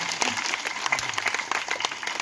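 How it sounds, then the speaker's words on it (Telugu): A church congregation applauding, a sustained burst of many hands clapping at even intensity, filling the room. "వద్దు, చప్పట్లు కొట్టండి."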